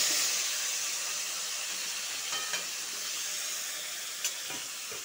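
Sweet pumpkin frying with black cumin in hot oil: a steady, loud broad sizzle and hiss that carries on throughout, with a few faint clinks of a spoon against the pan.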